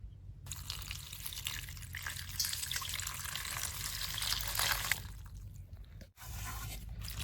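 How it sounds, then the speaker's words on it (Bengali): Leaves are rinsed by hand in water, sloshing, dripping and squishing up close with a few crunchy handling noises, nearly continuous before a brief pause and a restart. "আমি পাতা দিয়ে এখন পরিষ্কার করে ধুয়ে নেবো।"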